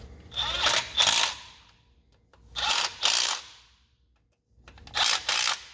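A tool snugging the last bolt on a lower engine oil pan of a Ford 6.7 diesel, three separate bursts of short ratcheting clicks in pairs, close by, with quiet gaps between.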